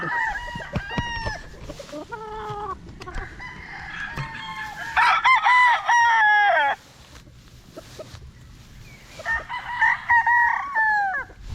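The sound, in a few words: kelso stag rooster crowing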